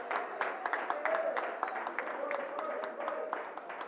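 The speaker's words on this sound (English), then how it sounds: "Let's give them another round of applause." An audience at a Hispanic Heritage Month celebration and business meeting gives scholars a round of applause, with scattered distinct claps over a murmur of crowd and a voice talking through it.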